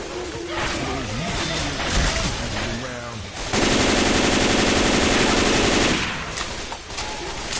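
An M60 machine gun fires in Left 4 Dead 2, dense bursts of rapid gunfire, with one loud sustained stretch of fire in the middle, mixed with game noise and a player talking.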